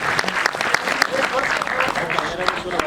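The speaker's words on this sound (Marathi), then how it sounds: "त्यांच्याकरता एकदा जोरदार टाळ्या" An audience at a Marathi film trailer launch event claps loudly in a sustained burst of applause, with a voice talking over it.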